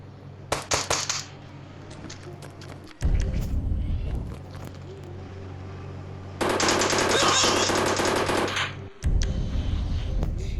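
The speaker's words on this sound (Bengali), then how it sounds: "বন্দুক বার করেছি" Gunfire in the Indian Bike Driving video game comes as rapid automatic bursts with rattling clatter, loud and close, alternating with low engine-like drone between volleys.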